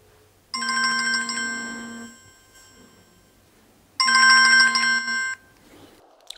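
A phone rings for an incoming call in two loud electronic bursts, each lasting over a second with a short pause between, clear and close with no talking.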